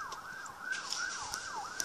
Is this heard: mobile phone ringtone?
no